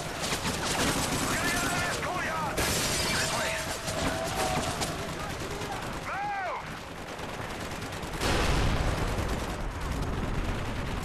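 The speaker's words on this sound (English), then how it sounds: "This tank's shooting at me." A tank firing in a Call of Duty video game: loud booming blasts and crackling gunfire mixed with game effects, with one heavy impact near the end and a voice talking over parts of it.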